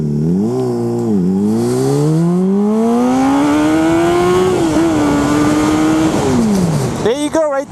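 A 1000cc sport motorcycle accelerates hard from low revs, its engine note climbing through several gear changes with loud, close revving that falls away near the end, with someone speaking over it.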